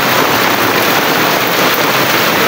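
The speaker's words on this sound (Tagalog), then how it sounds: "At tayo ay mababasa ng ulan." Steady, dense rain falls throughout, a continuous close hiss of drops on surfaces with no pauses and no voices.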